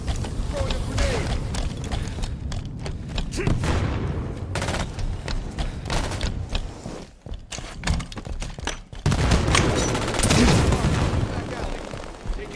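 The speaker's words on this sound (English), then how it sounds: "Throwing a grenade." A grenade is thrown and explodes amid a Halo 5 Guardians Breakout match, with dense rapid gunfire, thumps and booms running throughout and brief lulls around the middle, while game voices call out over the fighting.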